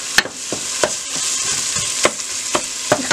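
Tomato paste sauce frying in a pan with broccoli and cauliflower sizzles steadily while a utensil stirs and scrapes, giving repeated sharp knocks at an uneven rhythm, close up with no talking.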